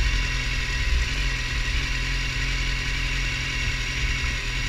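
A BMW S1000R motorcycle idling at a traffic light, its engine holding a steady, smooth mid-pitched hum with constant low rumble, close and loud, no voices.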